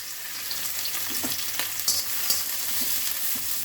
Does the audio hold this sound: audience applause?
no